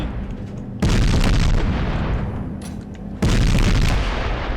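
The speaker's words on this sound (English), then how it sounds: "Yeah, that main battle cannon is tearing through. Look at the sound they make." Two heavy main battle cannon blasts in Space Engineers boom a few seconds apart, each a loud deep explosion followed by a long rumbling roar that slowly fades.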